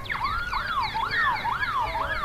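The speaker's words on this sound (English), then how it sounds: "But the siren sounds." Wailing rising-and-falling siren sounding over open air at a rugby league ground for half-time during a first-grade match, four long repeated sweeps, loud and steady with no talk.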